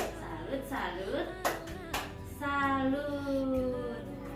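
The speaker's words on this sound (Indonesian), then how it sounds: "Ayo tepuk salut dulu untuk Ibu Ani." A group performs the tepuk salut clapping routine in honor of Ibu Ani, a few quick claps and chanted rhythm mixed with voices singing and talking throughout.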